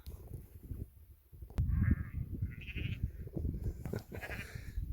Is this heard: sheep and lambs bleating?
yes